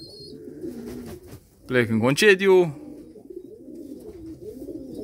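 Pigeons coo steadily in low, rolling calls at a rustic homestead in Galați, continuing beneath a voice that talks loudly for a moment in the middle.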